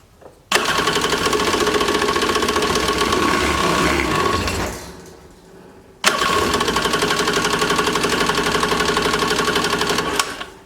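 The engine of a 1995 Yamaha WaveRunner jet ski, running with the choke on and a probably clogged carburetor, buzzes loud and close at a rough, rapid idle, dies away, then catches again and keeps running.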